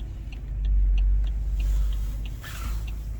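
A 2002 BMW 735i E65 drives in traffic, its engine and road noise producing a steady low rumble that swells for a moment and then settles, heard from inside the car.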